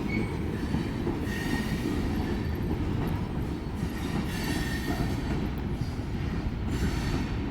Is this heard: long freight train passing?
yes